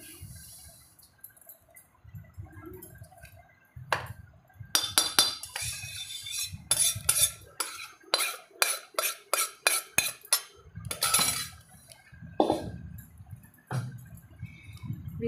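A fried sweet laddu mixture is scraped and tipped into a wide tray, with a run of sharp metallic clinks and scraping knocks, some in quick rhythmic bursts, near and moderately loud, separated by quieter shuffling pauses.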